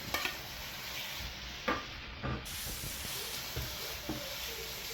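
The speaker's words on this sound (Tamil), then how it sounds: "இப்போ இதுவும் கொஞ்சம் வதங்கி வரணும்" Ginger garlic paste sautés in a hot pan for prawn noodles, a steady sizzling hiss broken by a few soft stirring scrapes close by.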